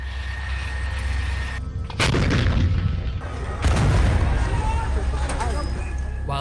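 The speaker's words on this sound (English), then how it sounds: "we hear these loud explosions" Artillery explosions near the Gaza border: two heavy booms land about two seconds apart over a low rumbling background, with faint voices present.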